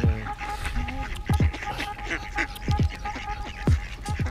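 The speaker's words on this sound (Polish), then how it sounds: "Nastąpiła właśnie inwazja kaczek." A flock of ducks in the Netherlands crowds around a GoPro camera, quacking and honking close by in short repeated bursts over a continuous background of splashing and rustling.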